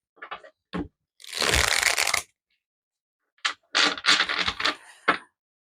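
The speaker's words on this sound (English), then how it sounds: "I always shuffle my cards 3 times." Tarot cards are riffled and shuffled in several quick bursts: a short flick, a longer riffle, then a series of rapid snaps after a brief pause.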